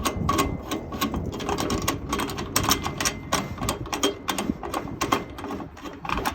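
Screws being backed out by hand while a barbecue grill is taken apart, giving a busy run of small clicking, ratcheting mechanical ticks close up that continue steadily throughout.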